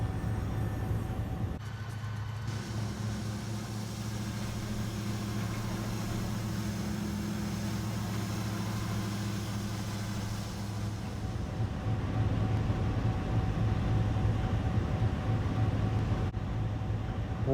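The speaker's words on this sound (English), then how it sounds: "another train is entering the harbor here" A train pulls into a harbor with a low, steady mechanical rumble and a faint engine drone that holds for the whole stretch, swelling slightly toward the end, distant and without voices.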